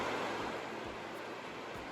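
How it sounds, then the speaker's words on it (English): Ocean waves wash steadily onto a sandy beach, a continuous broad rushing surf with soft swells and no voices. "the flow of the waves"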